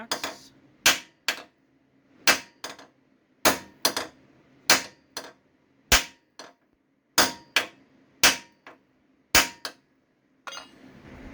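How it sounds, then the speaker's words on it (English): A hammer striking the steel frame of a RZR side-by-side near a weld, with a dozen or so loud, sharp metallic whacks spaced irregularly, some in quick pairs, and no talking. "So I'm just going to give it a couple more whacks."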